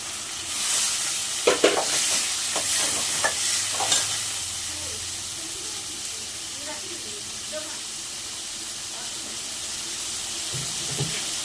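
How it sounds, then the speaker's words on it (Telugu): Vegetables tipped into hot oil with fried mustard seeds set off a steady sizzle and hiss, with clattering stirring and a few sharp pops early on before the frying settles into a continuous crackle. "ఇప్పుడు ఆవాలు వేగాయి కదా, దీంట్లో వేసేయాల"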